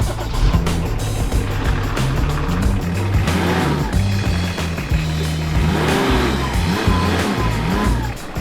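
A BMW 524TD E34 diesel car with a blocked brake drives along, its engine rumbling loudly and steadily throughout, with an occasional scraping whine from the stuck brake.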